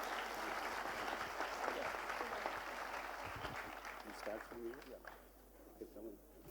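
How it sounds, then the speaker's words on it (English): Conference audience applauding, a broad wash of clapping that stays steady and then thins out, while voices talk over it near the end. "Give a huge round of applause for one and only Manoj Daga sir."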